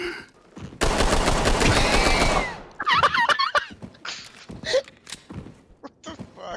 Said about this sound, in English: The M10 triple tap from across the room.